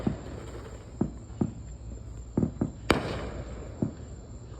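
Fireworks pop and crack at a distance, a string of separate bangs spaced irregularly over steady background noise, with one brighter, louder burst midway.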